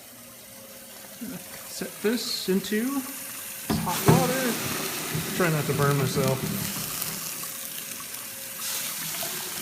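A farrier's rasp made into a knife blade is set hot into water, giving a hiss and bubbling sizzle mixed with clanks and handling noises, while someone talks over it in a workshop.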